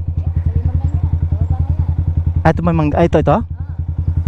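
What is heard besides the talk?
motorcycle engine idling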